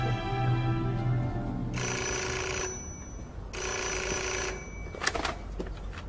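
An old telephone bell rings in two long bursts with a pause between them, loud and close, followed by the clatter of the handset being lifted, all over a low background hum.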